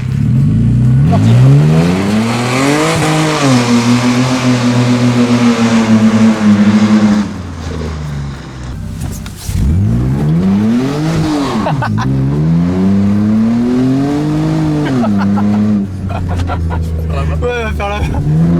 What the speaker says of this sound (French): Toujours important de bien mettre son clignotant et d'accélérer progressivement, surtout sur un véhicule aussi puissant.